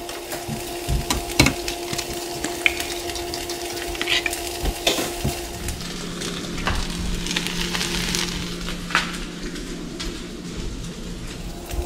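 Turkey bacon fries in a pan in a home kitchen, a steady sizzle with scattered clicks and scraping knocks from flipping, close and without talk.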